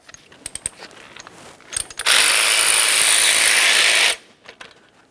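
Ratchet or power tool spinning out a pair of 10mm bolts holding a flex hose bracket to the steering knuckle of a 2003-2007 Honda Accord, a loud steady whir of about two seconds between faint clicks and handling noises.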